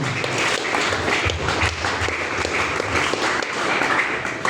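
Church congregation applauding in praise during a Filipino worship service, a steady, full round of clapping from many hands sustained throughout without pause.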